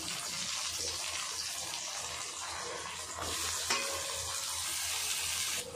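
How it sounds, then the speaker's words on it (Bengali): Chopped tomatoes going into onions already fried until red, in a pan for a dish made with rohu fish roe: a loud, continuous sizzling hiss with faint stirring, growing slightly louder midway, no talking. "এবার আমি দিয়ে দেবো কেটে রাখা টমেটো"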